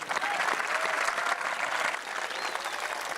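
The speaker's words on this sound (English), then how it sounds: "I would like you guys to give the players a round of applause again." Audience applause at a high school capping ceremony, with the crowd clapping for the players: a dense, steady wash of many hands that holds evenly loud throughout.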